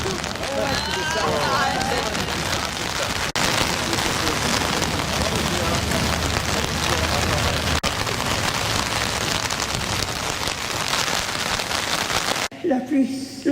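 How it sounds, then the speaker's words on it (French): Heavy rain pours steadily during a thunderstorm in an urban park in Pau, a dense, even hiss of drops on surfaces that lasts throughout and cuts off abruptly near the end, with a voice faintly beneath. "La pluie, l'orage et le vent ont interrompu cette magnifique présentation."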